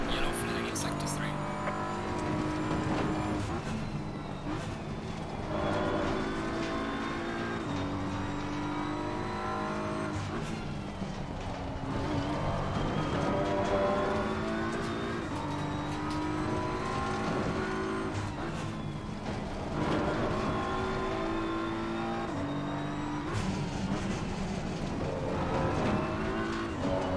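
Race car engines revving hard in Assetto Corsa Competizione, with repeated climbs to high revs, gear shifts and occasional tire squeal, loud and continuous, with a voice talking over the engine noise.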